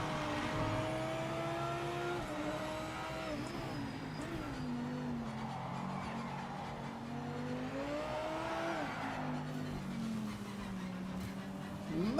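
Audi race car engine in the Project Motor Racing video game, droning steadily at high revs with rising and falling pitch through gear changes, plus occasional tire squeal, loud and continuous throughout.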